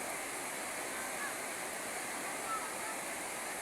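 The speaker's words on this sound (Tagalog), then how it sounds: "kaya malakas ang agos ng tubig dito sa baba" Steady, loud rush of the Angat River in Bulacan flowing fast from an Angat Dam water release, a continuous broadband roar without pauses.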